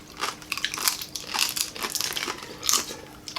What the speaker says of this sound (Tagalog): Malambot na malutong po yung balat.